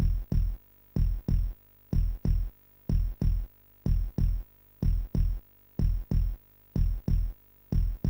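Loud video game heartbeat effect, a steady thumping double beat repeating about twice a second with clear pauses between pulses, close and prominent with no other sound.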